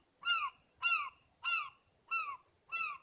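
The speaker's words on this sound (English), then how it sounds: "Wow, that seagull's annoying." A seagull calls over and over, five harsh, drawn-out cries at a steady pace with short gaps between them, fairly close and clear above a quiet outdoor background.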